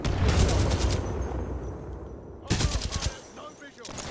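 Gunfire in the shooter game Titanfall 2, with rapid bursts of shots at the start, a short lull, then another loud volley, and a voice briefly talking.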